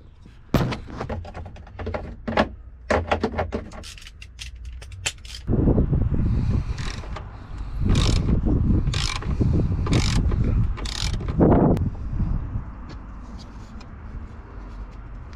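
Metallic clicks, clanks and ratcheting of a 30mm socket and wrench working on a VW Golf, with intermittent bursts of louder scraping and knocking close by.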